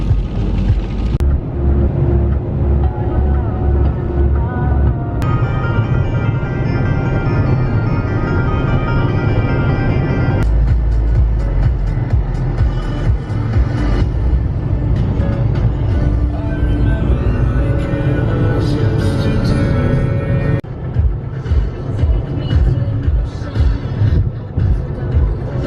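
Steady low road rumble and engine drone inside a car on a long highway road trip, continuous and loud throughout, with some background music-like tones layered over the cabin noise.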